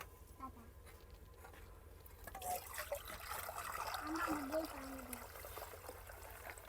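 Water pours steadily into a container for making dough for a few seconds, a soft splashing trickle that grows a little louder midway, heard faintly against room noise in a mud house.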